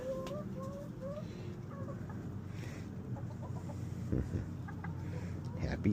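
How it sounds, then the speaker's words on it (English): Backyard hens clucking in short repeated bursts at close range, with low rustling and handling noise underneath and brief bumps toward the end. "Happy chickens."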